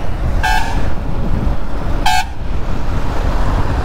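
A vehicle horn on a road near Alibaug beaches gives two short, loud toots about a second and a half apart over steady traffic rumble.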